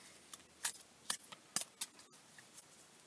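Tarot cards being shuffled by hand, a quiet series of short crisp snaps and riffles in an irregular rhythm, close and alone.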